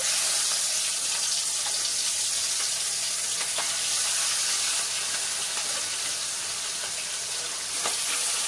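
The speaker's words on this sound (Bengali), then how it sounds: "সর্ষের তেল দিয়ে মাছগুলো আমি ভেজে নেব। দেখুন, তেল গরম হয়ে গেছে, এবার মাছগুলো আমি আস্তে আস্তে ছেড়ে দেবো।" Katla fish sizzles and crackles steadily as it fries in hot mustard oil, a close, continuous hiss with a few sharper pops, no talking.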